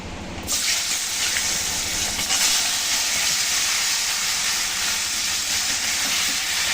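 Jackfruit pieces with turmeric and spice paste fry in a hot pan, giving a steady loud sizzling hiss that starts suddenly and continues evenly.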